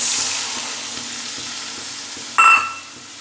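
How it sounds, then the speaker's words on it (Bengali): Spice masala with Kashmiri red chilli powder frying in a pan, a steady hiss of sizzling with faint rhythmic stirring, then a sudden louder burst as water goes in. "এবার একটু জল দিয়ে মশলাটাকে ভালো করে কষিয়ে নেব"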